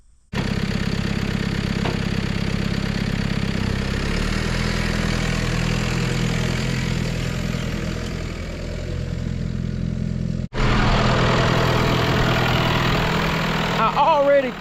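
A farm tractor, hitched to a peanut sprayer, idles with a steady low rumble that shifts slightly midway, then returns louder after a brief break, alone without talk.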